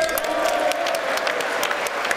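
Standing ovation from members of the US Congress for Ukrainian President Zelensky: dense, continuous applause filling a large chamber, steady and loud throughout before cutting off at the end.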